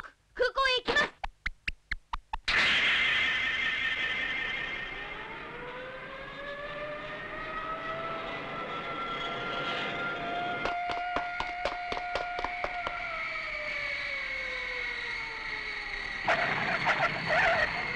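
Cartoon airplane flying past, a sustained droning engine tone with slowly rising and falling pitch, preceded by a burst of rapid clicks and later interrupted by rattling pulses, with no talk over it.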